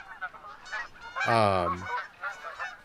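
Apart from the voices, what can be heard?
geese honking in theHunter video game, Hirschfelden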